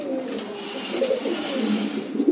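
Racing pigeons from a breeder's loft coo continuously, several overlapping low throaty calls rising and falling at moderate volume, with no voices.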